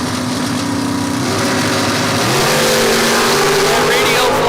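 Shootout dragsters at a Spring Fling drag-racing time trial rev hard at the start line, a loud, sustained engine roar that climbs in pitch partway through, with an announcer's voice over the PA.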